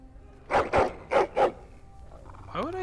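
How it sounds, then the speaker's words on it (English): A dog in the Dragon Age Origins video game gives four loud, close barks in quick succession, followed by a short whine or whimper. "The dog's warning me."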